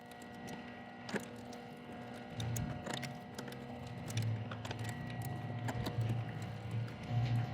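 Quick-change woodturning chuck jaws for a Victory chuck with Versalock jaws slide into place and tighten, giving a run of close metallic clicks, ratchety ticks and scraping over a steady low hum, with no voices.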